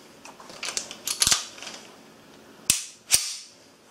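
A Beretta Model 92S pistol is field-stripped and reassembled, producing a run of light metallic clicks and slide snaps, then two sharp, loud clacks near the end, close up with no voices.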